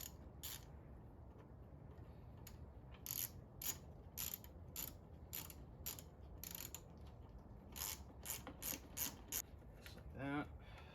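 A ratchet wrench tightens a bolt while rock lights are fitted to a Ford Ranger, giving quick bursts of sharp clicking in several runs over a steady low background hum, with a brief voice near the end.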